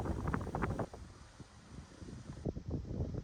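Steady wind blowing across a seaside park on the Seto Inland Sea, with moderate broadband gusts and rustle rising and falling throughout, fairly loud and continuous with no talking.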